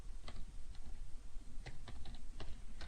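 Soft, uneven keystrokes on a computer keyboard, close and quiet, a short burst of irregular clicks with brief pauses and no speech.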